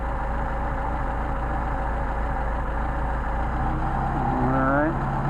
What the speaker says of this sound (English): Now we want to find a point at which it idles the best.